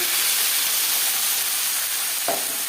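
Tomatoes dropped into panch phoron spice seeds frying in hot oil, a steady broad sizzle and hiss throughout with a brief louder burst of spattering near the end.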